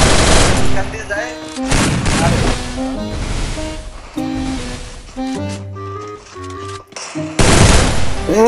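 Rapid gunfire from a mobile shooter video game crackles in bursts and single shots, loud and close, with short gaps between volleys and some game sounds in between.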